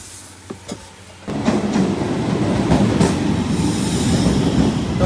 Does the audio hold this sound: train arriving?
yes